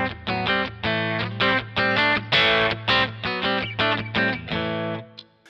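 An electric guitar runs through fuzz on a Kemper Profiler, playing a rhythmic series of thick, distorted chord stabs with short gaps, loud and close before ringing out at the end.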